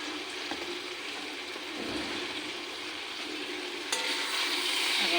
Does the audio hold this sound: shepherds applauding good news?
no